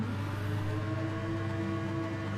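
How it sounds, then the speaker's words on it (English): Several Gran Turismo race cars sit on the grid at Catalunya, their engines droning and revving together in a steady, loud, continuous roar with no talk over it. "Revs are up then"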